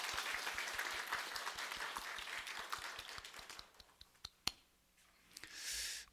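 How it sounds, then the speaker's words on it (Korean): A church congregation claps to welcome newcomers: a dense, steady round of applause for about four seconds that thins to a few scattered claps and fades, ending with a brief rustle. "우리 이분들 박수로 한번 환영해 주시면 좋겠습니다."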